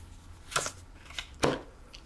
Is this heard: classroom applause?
no